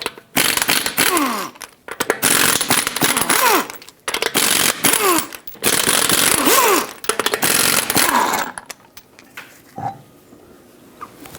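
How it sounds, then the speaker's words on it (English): An impact wrench with a 21mm socket spins off the wheel lug nuts on a 2013-2020 Nissan Pathfinder, heard as loud, repeated whirring bursts separated by brief gaps, ending in quieter clinks. "Use a 21mm socket, take all 5 of your lug nuts off, and then take the wheel off."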